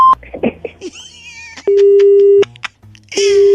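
A steady telephone tone sounds in two long, even bursts after a call is hung up, broken by short electronic blips and chirps between them.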